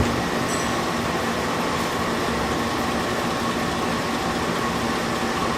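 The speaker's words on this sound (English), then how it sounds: "It's feeding the abrasives out. You can hear it." An engine block honing machine runs steadily while its stationary hone head feeds abrasives out, giving a continuous mechanical hum with a constant low tone throughout, with no talk.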